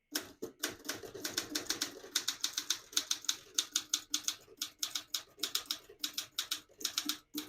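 Rapid, uneven keystrokes clatter on a 1963 Olympia SG1 vintage desktop typewriter set to red ink, sharp close strikes in quick bursts with brief pauses, no talking.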